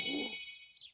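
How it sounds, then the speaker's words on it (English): A bright electronic doorbell chime rings once after a brief low voice, its tone hanging and fading with a second softer note. "why don't you ring the doorbell?"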